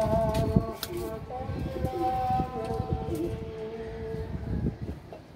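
A pet female pigeon coos in soft repeated bursts close by, with other birds chirping and cooing around it in a busy loft; someone talks over much of it.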